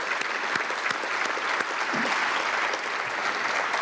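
Audience applause at a Phoenix Police Reserves centennial celebration, a steady dense clapping from a sizeable crowd that fills the whole stretch at even loudness.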